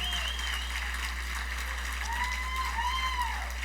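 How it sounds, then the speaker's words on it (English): Applause at a charity gala sounds faint and distant, with scattered clapping, a few whistles rising over it and a steady low hum beneath. "big round of applause"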